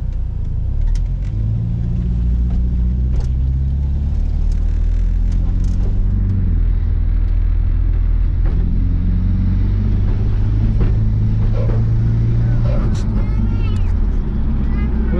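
A turbocharged Mitsubishi 2G 420a engine on a short test drive down the street, its steady loud rumble rising and falling with revs, and a voice talking over it.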